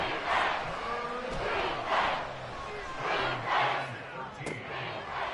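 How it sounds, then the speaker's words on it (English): A stadium crowd roars in the Madden 24 American football video game, with loud swelling waves of cheering and shouting that rise and fall in rhythm as a commentator talks over them. "This crowd turning up the decibel level."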